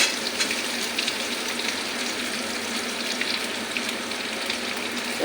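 Chopped onions hit hot oil in a pan with garlic for a kechki fish chorchori, giving a steady, dense sizzle and hiss that holds evenly throughout, close and unbroken, with no talking.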